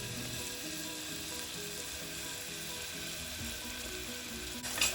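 Onions frying in hot oil over medium-low heat, a continuous soft crackling sizzle, faint and even throughout, with a small bump near the end.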